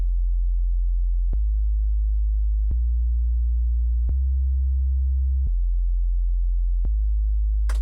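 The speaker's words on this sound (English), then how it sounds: "It's a sine wave, one tone." A synthesized sine wave bass line holds one steady low tone for drum and bass production, interrupted by a few brief clicks at note changes, with no other sounds.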